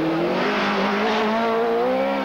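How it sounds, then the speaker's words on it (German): Pilbeam MP58 race car with a 4-litre engine at a hillclimb, passing close and loud with a rising, high-revving engine note that holds strong throughout, with no talk. "seinem Pillenbeam MP58 mit 4 Liter Motor"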